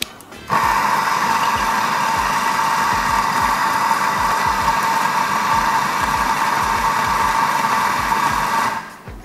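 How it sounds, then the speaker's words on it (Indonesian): A Nuova Simonelli MDXS espresso grinder grinds coffee beans in one steady, loud motor whir with a rattling grind. It starts abruptly and runs for about eight seconds before cutting off, with no talking over it. "Oke, kita giling aja, masuk ke shaker."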